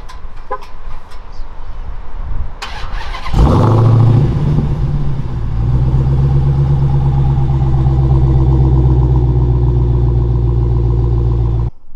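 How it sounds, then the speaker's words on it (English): A Dodge Challenger Hellcat with its stock muffler starts up. A brief whirring crank gives way to a loud, deep roar, which settles into a heavy, rumbling idle that carries on steadily to the end. "I'm going to go and show you guys what the startup sounds like. This is a stock muffler."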